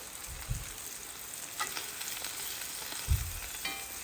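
A sous-vide pork chop sears in a hot pan with garlic, a steady close sizzle and hiss carrying through, broken by a couple of soft low thumps.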